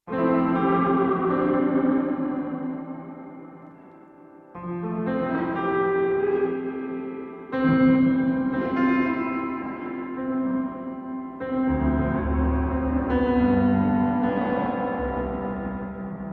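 Sustained synth chords drenched in reverb from the Aberrant DSP Lair plugin, with a wobbling, choppy stepped-waveform modulation, played in several long phrases separated by brief gaps.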